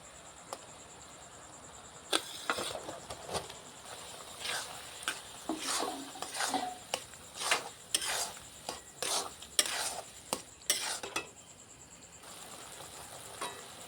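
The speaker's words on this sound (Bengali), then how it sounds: "বন্ধুরা এবার এটাকে নেড়ে নেড়ে সব শুকনো করে নিতে হবে।" Chhana is stirred with sticky jaggery in a pan for sandesh, giving a series of irregular scraping and clacking strokes over a quiet, faintly sizzling background.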